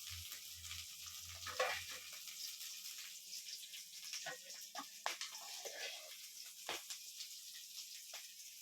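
Pirandai (adamant creeper) frying in a pan for thuvaiyal, a quiet, faint sizzle with occasional spatula scrapes and clinks as it is stirred.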